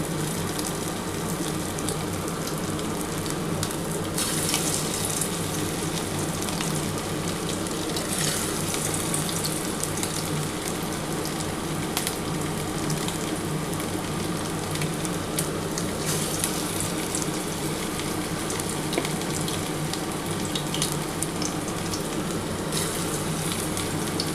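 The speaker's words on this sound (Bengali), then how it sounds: "প্রথমে আমি এই কটা ভেজে নিচ্ছি, তারপরে দেখো যেটুকুনি বাকি থাকবে এটা আমি ভেজে তুলে নেব" Mutton keema pakoras deep frying in hot oil, a dense, constant bubbling hiss that runs unbroken and fairly loud for the whole stretch, with occasional brighter crackles.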